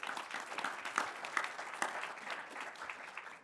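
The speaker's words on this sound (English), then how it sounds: "Please give her a round of applause." Audience clapping after a speaker at a farming leaders' summit, a dense, even patter of many hands lasting a few seconds and tapering off at the end.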